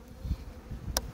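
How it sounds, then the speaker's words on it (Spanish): A single bee buzzes softly near a pollen trap on a hive in a cherry orchard, with faint wingbeat hum and a brief sharp tick near the end. "Se observa que la abeja aprendió a evadir"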